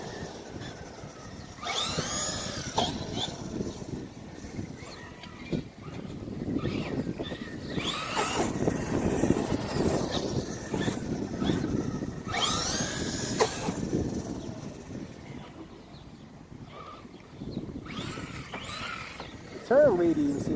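A ZD Racing Pirates 2 RC car on a 3S 80C 5500mAh LiPo runs at full throttle, its electric motor whining and surging continuously in bursts, with someone talking over it throughout.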